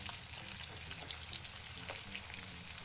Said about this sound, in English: we're gonna fry for about 7 minutes